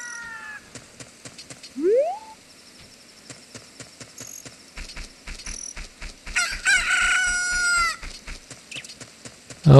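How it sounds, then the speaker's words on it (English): In the Zelda: Ocarina of Time video game, a chicken cackles and crows in a few bursts over steady rhythmic footsteps and game sound effects, with no talking. "Oh wow, a chicken."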